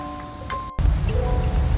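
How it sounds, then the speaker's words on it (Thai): Heavy rain pours down outside a village entrance, a dense steady roar of drops drumming on surfaces, close and loud after a brief cut, with no talking. "อยู่หน้าหมู่บ้านแล้วครับฝนตกอย่างหนักเลย"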